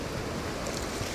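Small sea waves wash onto a beach in Quezon province, a steady broadband surf rush blended with wind buffeting the microphone over a brief, even stretch.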